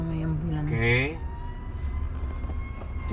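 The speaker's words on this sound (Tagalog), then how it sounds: "Kaya may ambulansya, tingnan mo." An ambulance siren sounds at a red light in city traffic, one clear rising-falling wail in the first second that then fades under steady car noise.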